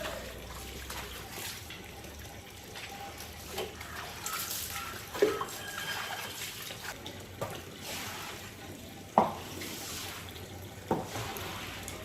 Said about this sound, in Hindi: यहाँ पे ना अभी मोटर का पानी आ रहा था